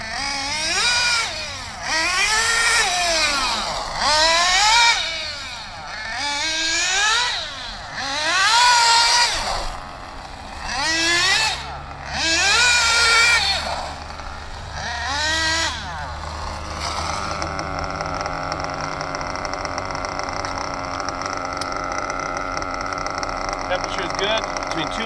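A small model engine revs up and down in repeated sweeping bursts around a race circuit, rising and falling in pitch like laps, then settles into a steady high whine, moderately loud and heard alone.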